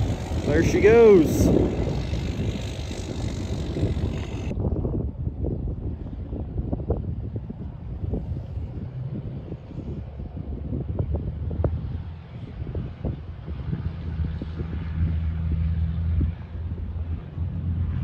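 A 5.9L Cummins diesel pickup pulls away outdoors, its low engine rumble moving off under gusty wind noise on the microphone, with brief voices early on before it settles into a fading, distant drone.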